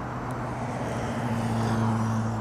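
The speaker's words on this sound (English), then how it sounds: "watching all these cars go past" Steady road traffic with cars passing by, a continuous engine hum and tire rush.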